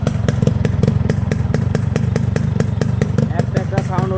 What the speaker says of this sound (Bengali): আজকে আপনার সামনে আসি আমার RX 100। এটা আপনার হচ্ছে সাউন্ড দিয়ে প্রথমে শুরু করছি।